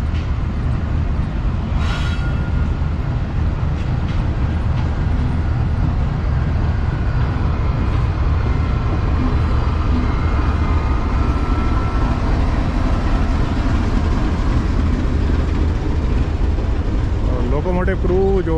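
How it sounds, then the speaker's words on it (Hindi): A Pakistan Railways GU-40 diesel locomotive leading the Khyber Mail passenger train toward Lahore, heard from inside the cab as a loud, steady engine roar and rumble with a brief sharp sound near the start. "ये लोकोमोटिव लाहौर तक लीड करेगा"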